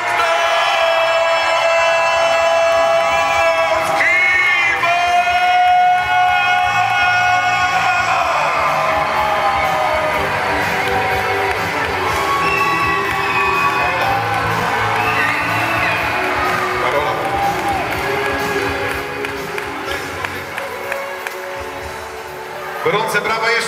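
A crowd cheers, whoops and applauds at an Olympic boxing gala in Poland, loud and sustained, with shouts and whistles rising over the clapping and voices calling out before it thins near the end.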